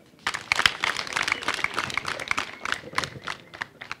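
An audience of motorcycle taxi riders in Rwamagana clapping: brisk, uneven hand claps from a group, fairly close, building quickly and tapering off toward the end.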